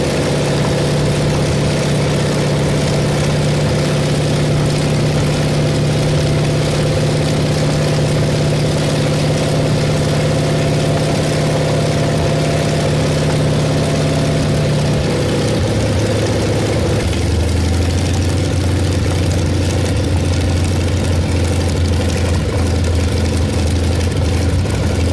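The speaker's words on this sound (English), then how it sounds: "That unmistakable radial howl slices the air as the Wright R975C4 unleashes its raw, untamed force" A Wright R975C4 radial aircraft engine runs loud and steady, its rumbling drone shifting down in pitch partway through as the revs settle, with no voices over it.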